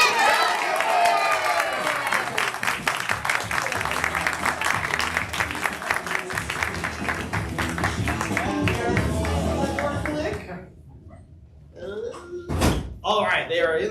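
A room full of audience members bursts into raucous applause and yelling on cue, loud dense clapping and shouts lasting about ten seconds before fading, followed by a couple of sharp knocks.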